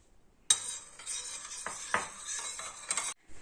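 A tablespoon stirring apple vinegar and cucumber juice together in a small dish, with close, light scraping and clinking strokes in quick bursts, clearly audible and heard alone.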